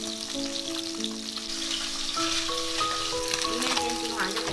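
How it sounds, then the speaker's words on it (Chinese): Fish pieces sizzle continuously in hot oil in a flat frying pan, a steady close crackle with a faint tonal hum in the background. "准备一个平底锅，加入适量油，油温热了，把鱼块放下来煎"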